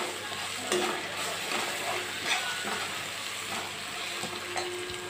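Ginger, garlic and tomatoes sauté in a pan for Chennai-style vada curry. A continuous close sizzle runs throughout while a spoon stirs and scrapes in a loose, irregular rhythm, with no voices.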